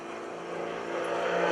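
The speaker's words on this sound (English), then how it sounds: "He rolls the airplane inverted and just keeps on going." An aerobatic propeller airplane flies inverted during airshow maneuvers, its engine a steady droning whine that swells gradually louder as it approaches overhead.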